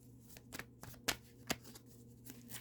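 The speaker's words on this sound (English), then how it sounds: "I'm shuffling" Soft, brisk tarot card shuffling with a few sharper riffling bursts, close by and fairly quiet over a low steady hum.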